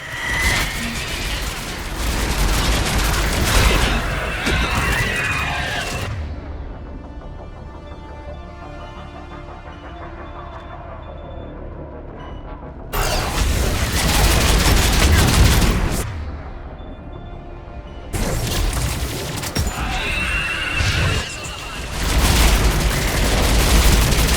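Mass Effect combat roars with dense bursts of gunfire and missile blasts in long loud stretches. Quieter gaps between them carry lingering rumble, and a voice speaks briefly.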